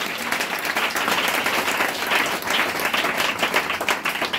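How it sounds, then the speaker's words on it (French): A church congregation applauding and cheering during a service, continuous crowd clapping with a bright, busy texture that holds steady throughout. "Est-ce que tu peux l'acclamer ce matin?"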